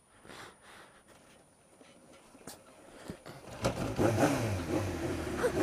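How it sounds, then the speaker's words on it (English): A motorcycle, either a Kawasaki ZX-7R or a Suzuki SRAD, cranks and catches outdoors after a stalled start, quiet at first and then rising into a loud rough engine roar over the last seconds. "Was that starter motor?"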